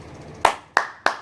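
Three sharp, evenly spaced hand claps ring out close and alone, each one a crisp burst with a quick decay.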